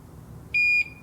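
A single short, high electronic beep from a soldering station reaching temperature sounds clearly over a faint background hum.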